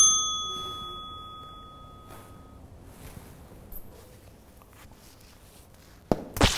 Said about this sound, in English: You did all that for a bell?